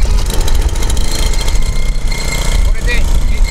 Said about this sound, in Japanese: これを引っ張るだけでエンジンがかかります